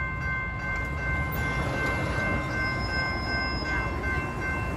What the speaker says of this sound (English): I think it's a Metrolink, guys.